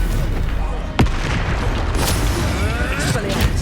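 A spell blast cast in a Harry Potter–style video game lands as a sharp boom about a second in, over a busy, steady wash of game noise, with a player talking throughout.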